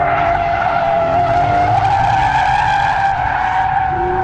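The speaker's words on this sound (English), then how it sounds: "the rate of lateral slip during high yaw events, or basically what we like to call drifting." 2013 Hyundai Genesis Coupe drifting, its tires skidding in a loud continuous squeal over engine roar.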